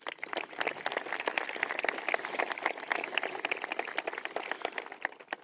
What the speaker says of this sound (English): Again, give yourselves a round of applause.